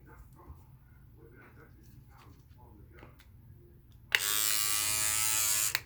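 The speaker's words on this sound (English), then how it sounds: "I use an electric toothbrush." An electric toothbrush switches on near the end of a quiet bathroom scene, a loud steady high buzz that holds for the last couple of seconds after someone talks softly.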